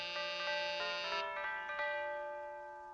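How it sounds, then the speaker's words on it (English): A cartoon doorbell chimes with a bright, sustained electronic tone, its repeated short pulses ringing clearly on its own before fading out. "I rang the doorbell."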